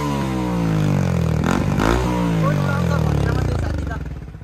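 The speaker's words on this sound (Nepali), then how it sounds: "साउन्ड सुन्न सक्नुहुन्छ एमटीको है" Yamaha MT-15 motorcycle with a modified stock exhaust and the dB killer removed, revving up and settling back close to the microphone, a loud throaty engine note that rises sharply near the middle and then holds steady.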